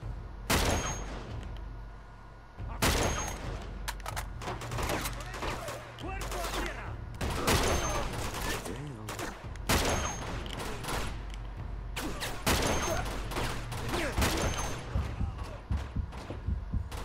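Rapid bursts of gunfire from Uncharted 2 during a sniper fight at a monastery, repeated loud volleys of shots with short gaps, dense and close throughout.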